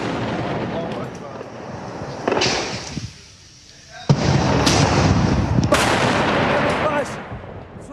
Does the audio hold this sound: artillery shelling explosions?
yes